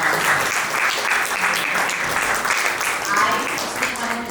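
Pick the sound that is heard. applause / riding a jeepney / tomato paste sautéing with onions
applause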